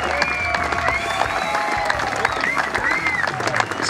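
A crowd at a Mountain Havoc snowmobile hill-climb awards ceremony claps, cheers and whoops for the first-place champion, with steady loud applause and shouts over crowd babble throughout.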